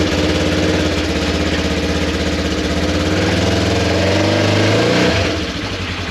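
A HEMI engine in a 4x4 vehicle runs loud and close as it strains to move, a steady throbbing rumble that swells in revs before dropping back near the end.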